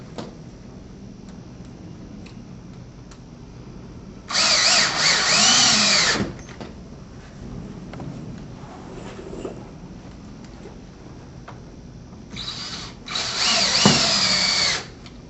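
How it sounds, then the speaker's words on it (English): A power drill drives bugle head screws into pre-drilled holes in deck panels, two loud whirring bursts of a couple of seconds each separated by a quieter stretch of background handling noise, with no talking. "we can continue to install the remainder of the bugle head screws into the pre-drilled holes"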